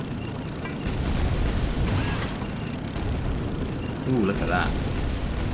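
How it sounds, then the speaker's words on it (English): Grenade launcher blasts in the ray-traced shooter Quake II RTX give deep rumbling booms and lingering muffled explosion noise, heard under an excited voice commenting on the scene. "Nope, grenade launcher."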